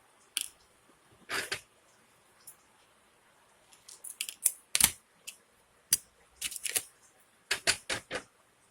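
Scissors cutting cord make sharp, crisp snips in short bursts, some single and some in quick clusters of two or three, with quiet gaps between them.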